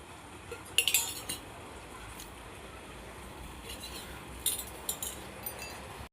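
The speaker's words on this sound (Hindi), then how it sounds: "इसके बाद बर्तन धुल रहे हैं।" Utensils and dishes being washed at a temple, with scattered metallic clinks and clatters of pots over a steady background wash, a few sharper knocks standing out.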